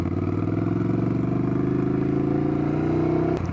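A 2022 Ducati Scrambler Nightshift motorcycle engine running in city streets, a steady throbbing rumble held close and loud for over three seconds before cutting off abruptly.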